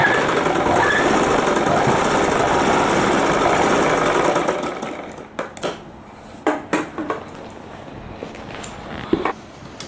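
A sewing machine stitching the sleeves onto a readymade dress runs in a steady, fast mechanical whir for several seconds, then stops, leaving a few sharp clicks and knocks from handling.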